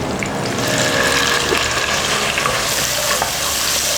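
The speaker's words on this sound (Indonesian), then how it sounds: "Ini kita akan tumis bawang putih dan juga bawang merahnya." Garlic and shallots sautéing in hot oil, a dense continuous sizzle with stirring scrapes, close and loud throughout with no talking.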